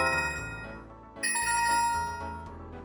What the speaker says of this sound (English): I created a cool effect where experience orbs appear and fly towards your level bar, with some satisfying sound effects